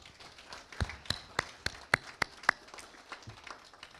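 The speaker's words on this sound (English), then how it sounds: "Give these Simmental breeders a big round of applause." Scattered, sparse hand claps from a small audience at a Simmental cattle breeders' show ring during a winter farm show, a handful of sharp claps spread unevenly, fairly quiet with no speech.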